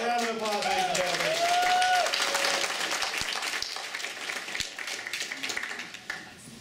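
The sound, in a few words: audience applause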